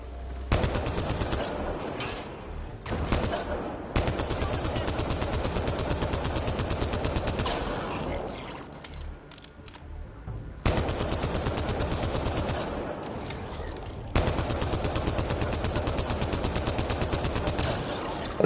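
Enemy gunfire in the sci-fi shooter Mass Effect Andromeda: long sustained bursts of rapid automatic fire, loud and close, broken by short pauses, with no talking over it.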